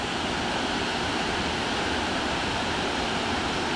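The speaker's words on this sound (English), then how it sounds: "I'm about halfway down to the falls, and I want you to see it from here." Rutledge Falls in Tennessee pours in a steady, dense roar heard from partway down the trail, a constant broadband wash of falling water with no voices over it.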